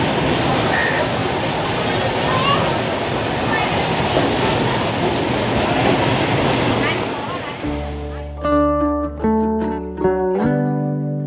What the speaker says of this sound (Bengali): একদম গায়েই হচ্ছে রেল লাইন আর কি, ট্রেনটা